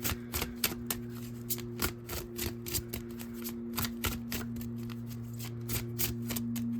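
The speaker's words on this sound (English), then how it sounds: "I'm gonna try to shuffle a couple more times" Tarot deck being shuffled by hand, rapid irregular riffling and snapping of cards in close, crisp bursts over a steady low electrical hum.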